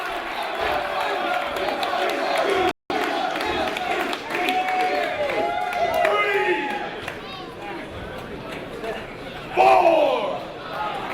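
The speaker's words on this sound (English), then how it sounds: "And his crowd is on their feet here in Brooklyn." Professional wrestling crowd in a Brooklyn arena cheering and roaring steadily, with a commentator talking over the noise and a louder surge near the end.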